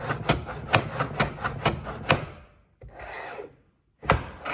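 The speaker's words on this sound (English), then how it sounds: "I'm just planing that end grain, that's to the line." A hand plane shaves timber end grain in quick, rhythmic rasping strokes, about eight in a row, then a pause, a softer pass, and one more stroke, close and crisp.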